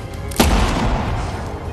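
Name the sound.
gunshot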